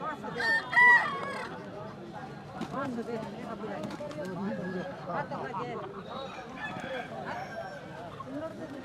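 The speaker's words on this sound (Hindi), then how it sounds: "इस प्रकार से यहाँ पर मुर्गों की लड़ाई होती है" Roosters clash in a live cockfight, with crowing, squawks and clucking bursts rising over the steady chatter of people talking in the crowd around them.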